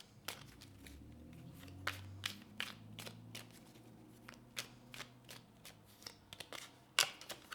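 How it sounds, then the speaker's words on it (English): Tarot cards are shuffled close by in a quiet room, a series of soft riffling snaps and flicks at uneven intervals, ending in a sharper burst. "I'm gonna give it a couple more shuffles though."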